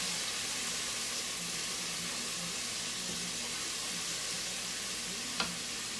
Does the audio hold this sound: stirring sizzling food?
yes